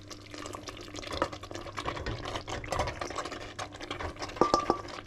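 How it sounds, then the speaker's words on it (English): Cooked pasta is tipped into a pan of potatoes in sauce, giving wet, squelching, stirring sounds with small clinks and soft, irregular sloshes close by. "Now I'm going to add the pasta."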